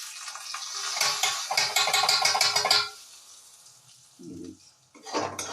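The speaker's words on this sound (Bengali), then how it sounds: "তো চলুন এবার আমি গরম তেলে দিয়ে দিলাম।" An aloo paratha is laid into hot oil and sizzles in crackling bursts, loud at first, then fading to quieter spits, with a brief clatter near the end.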